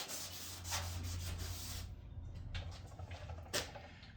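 Hand sanding a surface produces soft, rhythmic rubbing strokes close by, a steady scratchy back-and-forth that eases off midway and returns with a few lighter passes.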